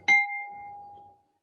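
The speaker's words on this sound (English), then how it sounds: "And ring the bell." A single bell is struck at a board meeting, one clear ding with a bright metallic ring that decays smoothly over about a second in a quiet room.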